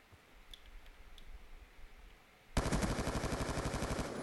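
Automatic gunfire in the video game Black Ops 2 erupts after a quiet stretch: a loud, rapid, sustained burst of shots with a fast, even rhythm that runs to the end.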